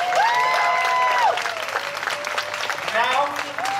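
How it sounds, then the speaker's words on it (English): An audience bursts into applause for a magic trick, a dense wash of clapping that stays loud throughout while a bright, sustained tonal melody plays over it. "Give her a round of applause."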